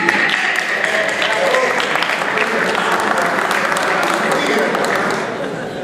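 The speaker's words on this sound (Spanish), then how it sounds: "Vamos aplaudiendo entonces." A hall full of delegates at a national assembly applauds steadily and loudly for several seconds, and the dense clapping tapers off toward the end.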